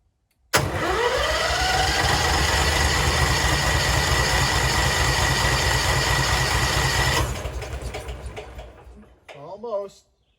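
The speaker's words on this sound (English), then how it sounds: "Let's see if we can get it to start." A Bigbear BBC72 wood chipper's small engine catches abruptly and roars loud and close for several seconds at a steady, rumbling idle, then loses power and winds down unevenly before sputtering out.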